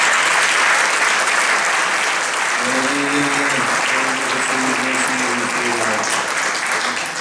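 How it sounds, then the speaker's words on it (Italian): Sustained audience applause fills the hall at the Premio Giorgione 2022 award ceremony final evening, steady and dense throughout, with faint music or voice tones rising underneath in the second half. "Un applauso."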